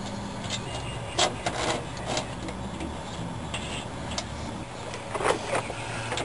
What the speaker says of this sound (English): we're just going to tighten this up, and you'll see as we tighten this up, the spring is collapsing